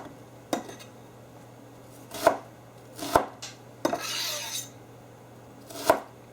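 An onion is chopped on a cutting board with a knife, giving five distinct, well-spaced chops, close and fairly crisp, with a brief sliding scrape between two of them.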